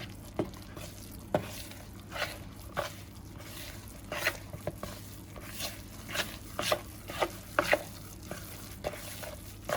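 More flour is worked into soft, sticky poğaça dough, producing soft rhythmic squishes and scraping stirs that come in uneven bursts over a quiet room.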